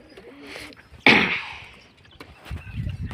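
A pigeon gives one sharp, fairly close call amid quieter background stirring and faint rustling.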